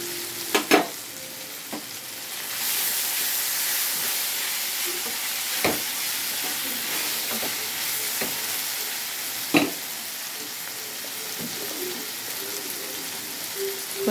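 Mutton and goruchikkudu (cluster beans) pieces frying in a pan, a steady sizzle lasting throughout, with a few sharp clanks of a spoon stirring.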